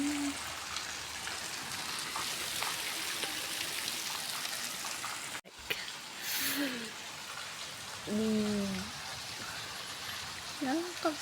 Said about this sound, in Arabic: باش نخليكم مع صوت المطر